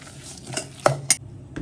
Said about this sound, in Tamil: இப்போ வந்து ரவையும் தயிரையும் போட்டு நல்லா மிக்ஸ் பண்ணிவிட்டு